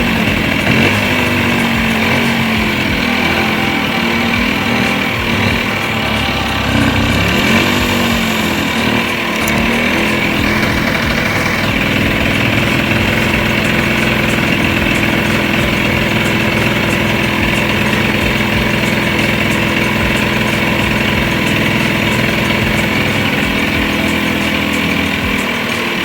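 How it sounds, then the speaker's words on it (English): Honda MT50 cafe racer motorcycle engine running at a loud, continuous rough idle, close up, its uneven two-stroke rattle wavering slightly as it struggles to stay running. "I got the bike running and idling"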